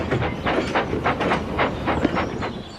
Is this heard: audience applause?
no